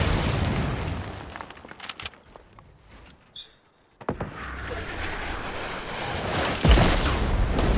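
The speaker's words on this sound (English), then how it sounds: "When I'm shooting RPG" A rocket-propelled grenade blast in the Fortnite video game: broadband booming bursts and crackling impacts fill the span, with a brief near-silent dip before another loud burst and rumbling debris, heavy and close.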